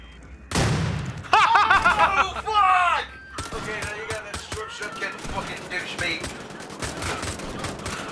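Video game gunfire against Nazi enemies, a sharp burst of rapid shots followed by scattered shots, impacts and game effects, mixed with a person talking and reacting over the action.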